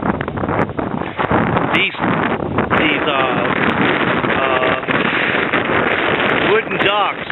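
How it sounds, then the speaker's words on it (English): Strong wind buffets a microphone by a lake shore, a loud continuous rumbling roar that nearly drowns out someone talking through it. "the wind is hitting me in my face as I'm trying to narrate this"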